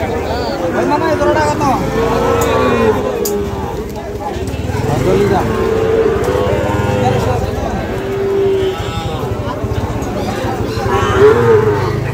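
Sahiwal breed bull calves mooing repeatedly at the crowded Ambari cattle market in Dinajpur, loud nearby lowing calls rising over busy market chatter and voices throughout.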